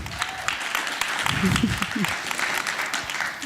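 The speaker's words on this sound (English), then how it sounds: "Everybody give a round of applause for Julie." An audience at a women-in-tech panel event applauds steadily, a dense wash of clapping with some low murmuring voices rising briefly in the middle.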